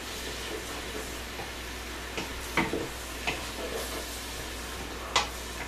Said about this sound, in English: We're going to mix it around.